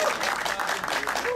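Audience applause at a photography gallery exhibition opening, a dense continuous patter of clapping filling the whole moment at moderate loudness.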